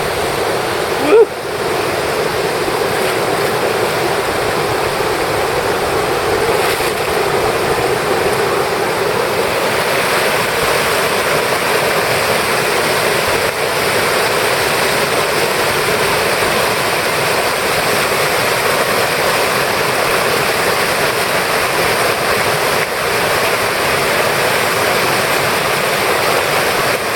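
Raging river waterfall in Veracruz, Mexico, a continuous heavy roar of rushing water close by, steady throughout with one brief knock near the start.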